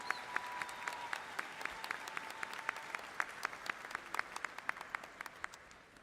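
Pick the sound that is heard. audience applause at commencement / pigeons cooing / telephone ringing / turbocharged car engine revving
audience applause at commencement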